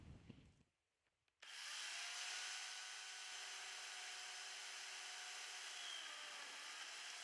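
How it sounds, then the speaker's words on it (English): A Stihl E140 electric chainsaw cuts branches into pieces, starting after a brief quiet gap and running as a steady, loud, high-pitched whine with a sustained motor tone for several seconds, no talking over it. "As you can see, all branches are being cut in pieces very quickly"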